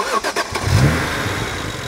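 A BMW 1M E82 coupe engine fires up and settles into a loud, steady, rumbling idle close to the microphone, with a few brief pulses at the start before the continuous drone.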